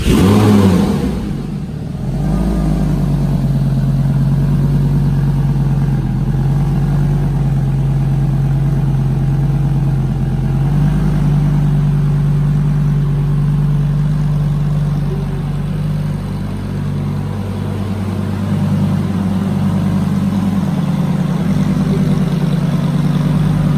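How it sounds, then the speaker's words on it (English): The engine of a wrecked, rebuilt Lamborghini cranks to life and settles into a loud, steady rumble with slight swells in revs, heard close and alone with no talking. "If you actually want to start it, you might have to hit the clutch though."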